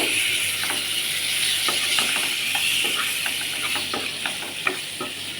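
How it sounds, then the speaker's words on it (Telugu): Chopped tomatoes and curry leaves fry in a covered pan, giving a steady broad sizzling hiss with small scattered pops and crackles throughout, close and even. "ఇది కూడా చక్కగా ఫ్రై చేసుకోవాలి"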